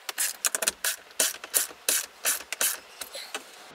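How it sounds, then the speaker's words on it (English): A 5/16 ratchet fitted with an extender clicks in quick, uneven bursts of ratcheting strokes while tightening bolts on the AC unit of a 2018 Airstream Base travel trailer, close and alone. "this is just a simple 5/16 ratchet, and I just have the extender on there"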